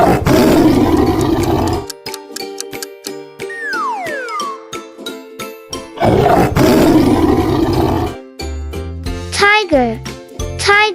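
Two bursts of a big cat's deep, rough roar, each lasting about two seconds, sound in a children's animal sound quiz. They are separated by stretches of bright jingly music, tones and playful chirps.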